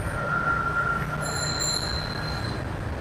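Metro train at Bangladesh Secretariat metro station, its wheels squealing in long high tones over a steady rumble of rail noise, close and continuous with no voices.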